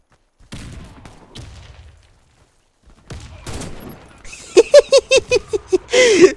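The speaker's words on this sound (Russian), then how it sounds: "Выстрел вижу." Gunfire in the shooter game Warface, sniper play: scattered shots early, then a rapid run of sharp bursts near the end, loud and close.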